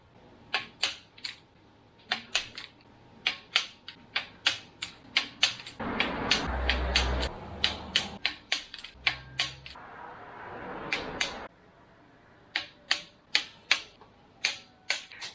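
A torque wrench tightening RB25 cylinder head bolts, giving a series of sharp, close clicks in irregular clusters, with a short burst of rustling midway.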